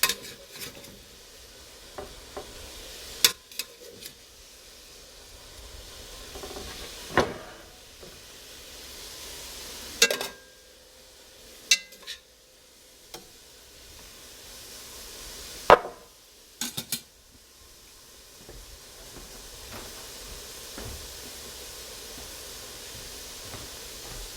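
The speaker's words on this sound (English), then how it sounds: "Okay, in go the onions, in go the carrots" Onions and carrots go into a pot for beef bourguignon with a soft background sizzle, punctuated by scattered sharp clanks and scrapes of stirring and utensils against the pot, with no voices.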